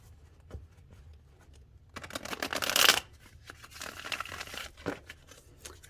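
Tarot cards being shuffled by hand, a soft papery riffle that swells into a loud, dense burst of crisp flutters and clicks before easing back to quieter handling, close up and alone.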